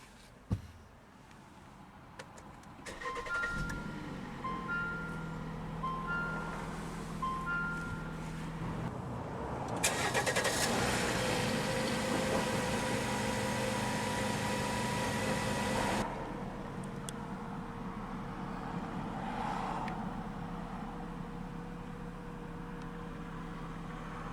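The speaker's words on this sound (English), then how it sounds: "let's go ahead and start the engine" A 2021 Jeep Compass Limited SUV engine cranks via push-button start and catches, then settles into a steady idle hum, with a brief louder surge in the middle and chimes early on.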